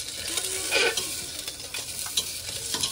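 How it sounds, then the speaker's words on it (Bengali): Chopped fish frying lightly in a pan, a steady close sizzle with occasional stirring scrapes, no talk. "মাছগুলোকে আমি একটু কুচি করে হালকা ভাজবো, খুব বেশি ক্রাঞ্চি করবো না।"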